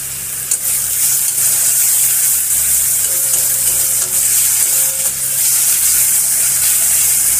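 Tomato with salt fries loudly in a pan with a continuous close sizzling hiss and faint stirring scrapes throughout.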